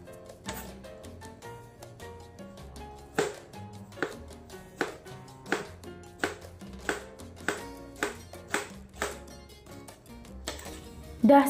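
A knife chops mango into cubes on a cutting board with a steady series of sharp, evenly spaced taps, close and moderately loud, over faint background music.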